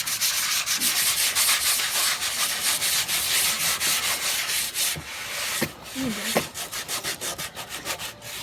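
Steady, rough abrasive rubbing of sandpaper on a wooden skateboard deck, continuous and close, with a few brief knocks and shifts near the end.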